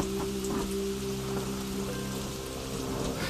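Steady rain patters on a surface, with dense drops and a constant wash under a low sustained hum, fairly quiet and unbroken throughout.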